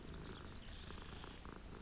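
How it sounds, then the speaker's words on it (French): Cats purring in the Hogwarts Legacy video game, a steady, close, rumbling purr that continues without a break and is heard alone. "Ils ronronnent comme un Vin Diesel."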